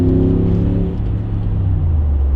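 A 2015 Mercedes G550 SUV rounding a turn gives a steady, close low engine drone and road rumble with a slight easing of pitch, no voices over it.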